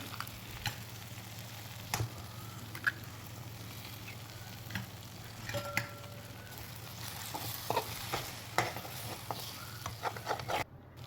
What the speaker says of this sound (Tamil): அப்புறம் ஒரு 3 முட்டை உடச்சி ஊற்றிக்கோங்க. ஊற்றிட்டு மிக்ஸ் பண்ணிவிடுங்க.